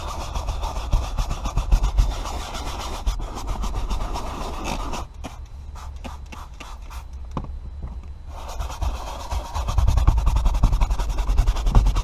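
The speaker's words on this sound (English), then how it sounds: "Take our scrub brush. Really scrub those areas." Scrub brush scrubbing saturated, stained car seat upholstery, with rapid back-and-forth bristle rasping in bursts, a brief pause and then more vigorous close scrubbing.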